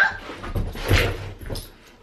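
A young dog yowls and growls during rope play, a continuous whiny, grumbling vocalisation up close with a louder swell midway.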